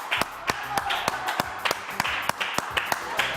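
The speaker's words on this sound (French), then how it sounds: "On les applaudit très très fort" Clapping from a television studio audience: sharp, evenly spaced claps, about a dozen in quick rhythm, fairly close and distinct rather than a dense wash, over a faint background murmur.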